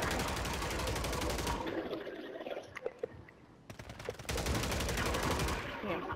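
Rapid automatic gunfire rattles in long, dense bursts during a Warzone match, stopping for a couple of seconds before another sustained burst.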